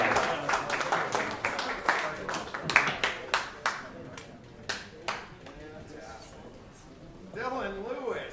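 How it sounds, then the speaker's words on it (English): An audience claps for songwriters at a music showcase, a steady spatter of hand claps that rises and then tapers off, with people talking over and after it. "Let's give them a big round of applause."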